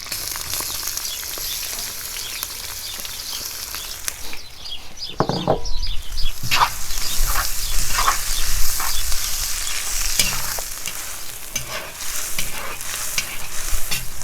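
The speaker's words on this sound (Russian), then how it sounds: "Я думаю, наш казан уже, наверное, разогрелся. Вот, добавляем лук." Chopped onions hit the oil in a hot kazan over an open campfire while plov is being cooked, giving a steady loud sizzle and frying hiss with scraping stirring strokes, no voices.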